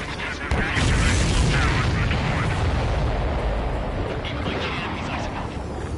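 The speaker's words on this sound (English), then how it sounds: "Did you see that explosion?" A deep, roaring explosion in the aerial combat video game Ace Combat 7 bursts in sharply, then rumbles on loudly as a sustained boom with game audio and voices layered on top.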